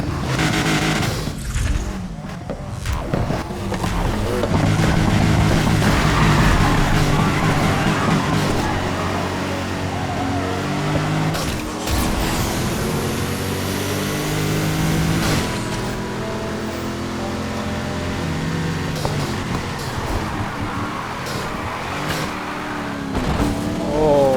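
Dodge Charger SRT8 muscle car in Need for Speed Heat, its engine revving and roaring loud and close throughout, with surges, drift-style tire squeals and shifting pitch, no talking over it.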